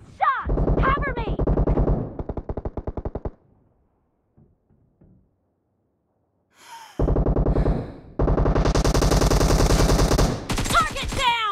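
Automatic weapon fire in the battle royale game PUBG: two loud, close bursts of rapid shots, a short pause with faint scattered sounds, then longer sustained bursts near the end.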